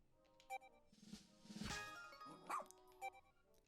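A dog barking in the Pikmin 4 video game, quiet game audio with a few short barks and yips spread over a few seconds amid soft background tones.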